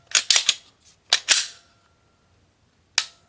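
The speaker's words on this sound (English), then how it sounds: "As far as actual trigger pull feels, we have our take up, a wall, little movement, break" A Walther PPQ M2 pistol dry-fired: a rapid cluster of sharp mechanical clicks from the trigger take-up and break, then two more close snaps, and after a pause one final crisp click, all near and alone.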